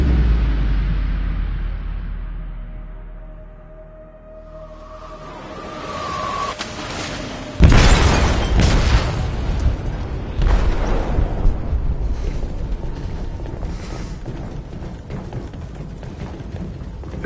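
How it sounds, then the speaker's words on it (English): An explosive detonating in a ship's hold in Detroit: Become Human, a sudden deep booming blast after a quieter rumbling buildup, followed by sustained roaring debris and crashing noise. "They detonated an explosive in the hold."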